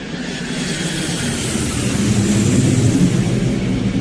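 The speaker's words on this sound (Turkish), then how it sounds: "Uçak piste ivme kazanıp kalkış hızına ulaştıktan sonra tekerleri pistten kestiler." A passenger airliner roars as it accelerates down the runway for takeoff, a steady broadband jet rumble that swells gradually and stays loud throughout.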